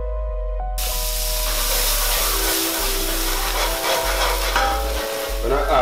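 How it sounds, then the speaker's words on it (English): Half an onion sautéing in a skillet gives a loud, continuous sizzle and hiss, with stirring scrapes heard close by throughout. "So in that same skillet, we're gonna saute about half of an onion."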